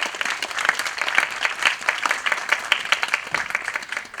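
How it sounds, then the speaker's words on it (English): Audience in an auditorium applauding participants of an idea pitch competition, clearly separated individual claps in a brisk, moderately loud pattern, suggesting a smaller crowd, continuing steadily for several seconds. "please give a round of applause to all our participants"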